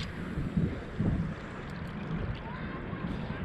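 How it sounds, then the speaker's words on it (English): Gusty wind buffets the microphone while fishing from a boat, a steady rumbling roar with brief stronger gusts and faint water sounds underneath, no clear talk. "I'm currently fighting the wind"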